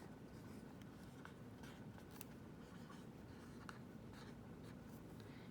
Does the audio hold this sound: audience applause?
no